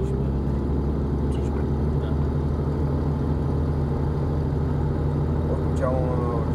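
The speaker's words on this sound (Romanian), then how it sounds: "Adică nu te aștept să mergă atât de rotund motorul fiind și carburație." A Mercedes-Benz W108 with a carburetted engine idles smoothly and quietly at close range, a steady low hum under a man's conversation.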